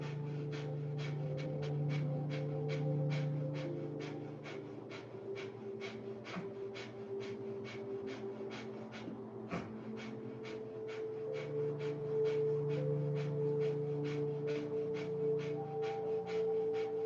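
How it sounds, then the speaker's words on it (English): Rapid panting breath through the nose in kundalini breathwork: quick, even sniffing pulses repeat at a steady pace for the whole stretch, close and clear, with no talking. "on your next inhale, we're going to start the panting through the nose"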